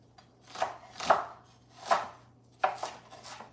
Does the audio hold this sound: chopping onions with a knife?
yes